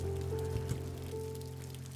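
Steady rain falling on a spring day, a soft continuous patter with a low tonal hum running underneath and no voices.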